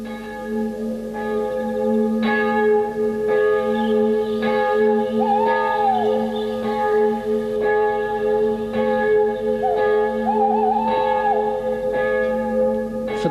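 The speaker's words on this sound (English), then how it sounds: "maybe the echo of a ghostly bell drifting across the years will" A church bell tolls in a hilltop valley, loud and ringing with long overlapping resonance, struck about once a second in a slow, regular sequence.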